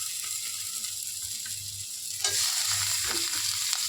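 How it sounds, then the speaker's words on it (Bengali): Tomato going into hot oil with spices for Bengali chicken kosha, a steady, close sizzle and crackle with a brief louder burst of hissing partway through, no voices. "টমেটোটা দিয়ে মশলার সাথে ভালো করে ভেজে নেব বন্ধুরা।"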